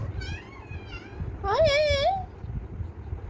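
A kitten gives a couple of soft short meows, then one louder rising-falling meow, with a voice speaking around it.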